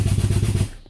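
Accuair air suspension on a 2010 Honda CRV lowers the front through its switch-speed valves, giving a short, loud, rapid mechanical chatter with a buzzing low rattle that stops abruptly, heard close and alone.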